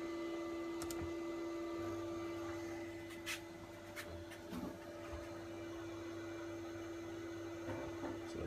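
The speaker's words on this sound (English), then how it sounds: "the spinner carries on going. It's the washer that keeps dropping out to do a rotation on the wash." A Polar twin tub washing machine runs with both spinner and washer going, producing a steady motor hum with tonal whine, low rumbling and occasional knocks as the washer drops in and out.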